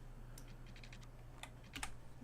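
Computer keyboard keys click in short irregular bursts during a Cities: Skylines session, faint and close over a low steady hum, with a quick cluster of taps near the end.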